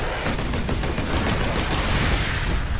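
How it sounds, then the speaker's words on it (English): Sustained automatic bolt gun fire in Warhammer 40K: Space Marine, a dense, loud continuous stream of rapid shots lasting about three seconds, with no voices over it. "our bolt gun does tear him up pretty easily too"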